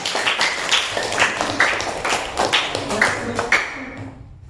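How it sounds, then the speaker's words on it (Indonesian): A school class claps for a student group in a classroom, scattered hand claps coming in several short bursts across the clip, close and moderately loud, with faint voices underneath. "beri tepuk tangan untuk kelompok 4"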